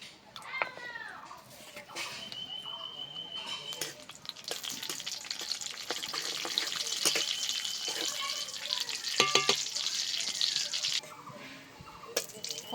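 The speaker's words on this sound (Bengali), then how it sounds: "তেলের ওপর দিয়ে দিচ্ছি ফোড়ন।" Whole garam masala, cumin and dried red chillies crackle and sizzle in hot mustard oil in a wok, a steady frying hiss with scattered pops and occasional utensil clinks.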